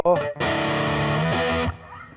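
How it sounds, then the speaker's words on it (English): An electric guitar plays through a DOD 250 distortion pedal, a short burst of thick, buzzing distorted notes that ring out, bend slightly and then cut off abruptly. "Now we're into the DOD 250. This was a distortion pedal for many people like myself."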